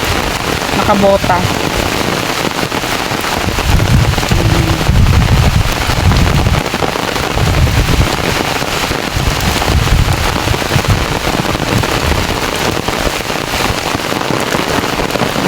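Heavy rain falls on a walk through bamboo on farmland, a dense continuous hiss with bursts of low rumbling thumps, while a voice speaks briefly near the start.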